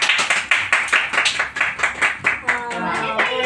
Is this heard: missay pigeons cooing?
no